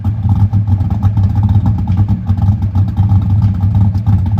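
Loud, close car exhaust from 5 feet behind, a rough, lumpy cammed idle, the engine chopping rhythmically through a thin, raspy cheap eBay muffler.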